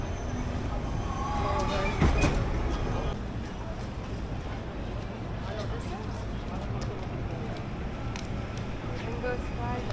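Sentosa Express monorail on Singapore's Sentosa Island: a continuous rumble of the train rolling along, with a brief squeal near the start, while people talk over it.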